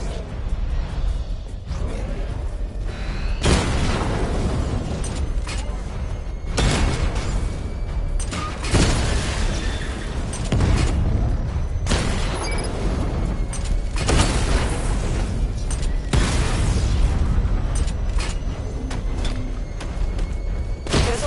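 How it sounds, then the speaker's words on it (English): Missile barrage explosions from a Batman video game burst repeatedly as heavy booms and whooshes over a continuous rumbling background, with several loud blasts spaced a few seconds apart. "Charge up missile barrage to level 2 and destroy 4 active targets to complete diagnostic test."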